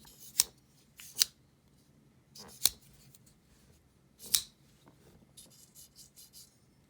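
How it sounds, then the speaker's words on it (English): Short scratchy metallic scrapes of a Boker GripLock pocketknife's liners rubbing against each other, several separate strokes spaced irregularly over a quiet background, close up. "that's just the scraping of the liners against the liners here."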